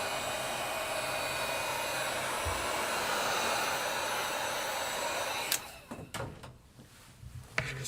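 Heat gun or hair dryer warming a cracked iPad 9th Gen screen during repair, a steady airy blowing whine that cuts off after about five seconds, followed by light tool clicks and taps.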